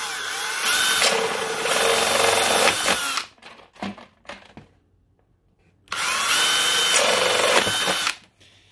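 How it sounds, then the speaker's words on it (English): A power drill spins a 1-inch paddle bit through material in two loud sustained bursts, separated by a short pause with a few clunks and near silence. "And we're just going to drill some holes."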